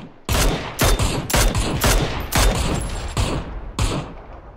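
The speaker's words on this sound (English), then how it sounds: "They're shooting at me" Rapid bursts of gunfire from a multiplayer video game shooter, several loud volleys in quick succession, close and sharp, with no talk over them.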